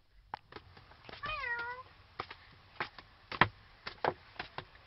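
A person imitates a cat with a single wavering meow-like cry amid a series of sharp tapping knocks, close and fairly loud, with no other voices.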